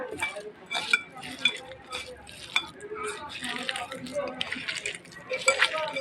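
Raw green banana being mashed by hand for bhorta, with soft irregular squishing and the occasional utensil clink against a bowl, close by, while a person talks over it.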